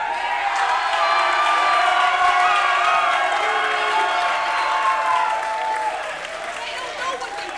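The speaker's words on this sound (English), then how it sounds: "The crowd here at the arena chanting 5 more minutes." A wrestling arena crowd at an NWA World League Wrestling show chants and cheers loudly and continuously, a dense, reverberant roar of many voices with rising and falling calls that eases slightly toward the end.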